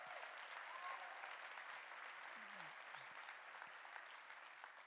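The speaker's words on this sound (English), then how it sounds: "You can clap that up for what we have done." Audience applause at a talk, a steady wash of clapping from a crowd that holds at an even level for several seconds, sounding fairly distant.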